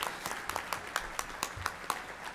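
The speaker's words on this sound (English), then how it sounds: "let's have another round of applause for the way they serenade us as we enter the convention" Audience applause at a Rooster Booster community gathering in a convention center, heard as spaced, distinct claps on a quieter background, roughly four per second and fairly close, with no talking over them.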